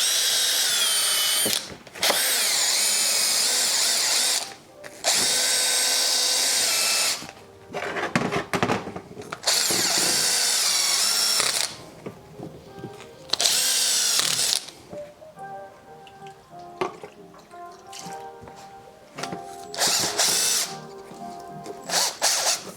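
A power drill spins a bottle brush inside a fuel rail from a Nissan 200SX, running in loud bursts of a few seconds each with short pauses between, the whine shifting in pitch as the brush scrubs.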